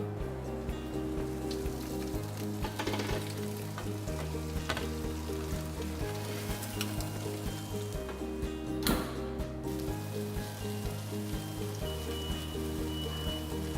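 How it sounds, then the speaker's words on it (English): Steak and shrimp sizzle steadily inside a Fagor convection oven, a dense continuous crackle over a low cyclic fan hum, close and constant throughout. "Can you hear that sizzle?"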